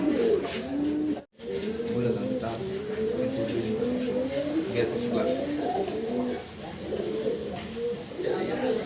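Many pigeons cooing together in a continuous, overlapping chorus of low rolling calls, close and steady, with a brief dropout near the start.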